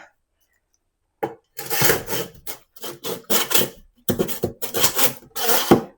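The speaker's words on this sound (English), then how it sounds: "better cutting in the grout than actually scratching up this tile" Tool cutting grout along kitchen countertop tile, making close, gritty rasping strokes in an uneven rhythm of short bursts separated by brief pauses.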